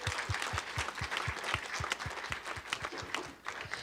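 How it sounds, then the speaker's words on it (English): An audience at a startup pitch competition claps steadily and fairly loudly, dense applause with sharp individual hand claps standing out in a quick, even rhythm. "let's give them a round of applause"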